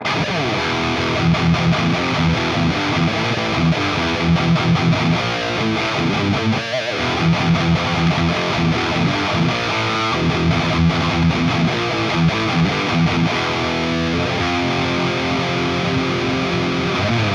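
A heavily distorted electric guitar through a Peavey 6505 metal amp simulator chugs through a steady, driving metal rhythm, loud and dense, playing alone without any voices.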